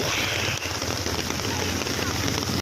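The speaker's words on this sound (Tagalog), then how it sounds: "Walang hinto ang ulan, magdamag" Steady, dense rain drums on a transparent umbrella during a night of nonstop rainfall near a river, close and loud throughout, with a constant patter and no pauses.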